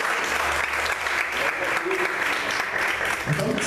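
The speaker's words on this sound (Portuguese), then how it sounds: "Você pode aplaudir o Senhor por isso" A church congregation applauds, a steady, dense roar of clapping that holds for the whole stretch, with some voices mixed in.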